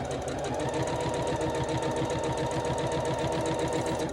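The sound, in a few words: sewing machine stitching quilt pieces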